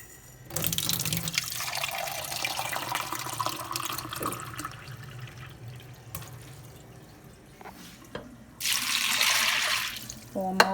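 Water runs from a tap and splashes into a crock pot of red beans in two separate pours, the second louder, with clinks and brief handling sounds between.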